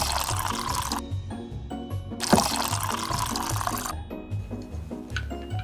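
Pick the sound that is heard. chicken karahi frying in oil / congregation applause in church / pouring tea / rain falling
pouring tea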